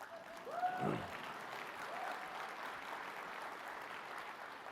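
An audience applauds at a conference main stage presentation, with faint, distant, steady clapping and a brief voice near the start.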